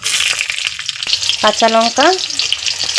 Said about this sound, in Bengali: তেলের মধ্যে কিছুটা দিয়ে দিব কালো জিরে আর কেটে রাখা কিছুটা কাঁচা লঙ্কা